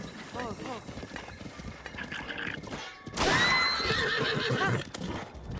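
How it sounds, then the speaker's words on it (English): A horse whinnies loudly amid hoofbeats and clattering game sounds in a Zelda video game, with a voice talking briefly underneath. "Alright, now we have a horse again."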